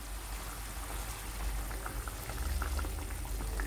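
Broth pours over onions and chicken frying for Algerian kebab, producing a continuous rushing, bubbling liquid sound that swells slightly toward the end.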